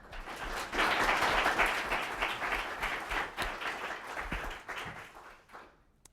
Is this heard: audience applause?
yes